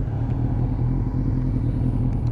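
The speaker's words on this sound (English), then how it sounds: "It is idling very, very low." A Suzuki Bandit 600 motorcycle with a carburettor issue idles very low, giving a close, steady, low-pitched rumble with slight clatter.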